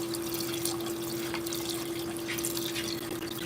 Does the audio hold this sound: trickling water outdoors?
yes